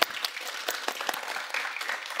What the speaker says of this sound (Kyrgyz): Анда кол чаап коюңуздар.